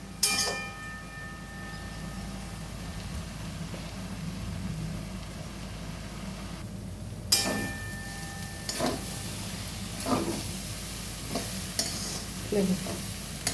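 Masoor lentil dal with kalmi greens bubbles and sizzles in a pot over a high gas flame, a steady close simmering hiss punctuated by occasional stirring scrapes and clinks.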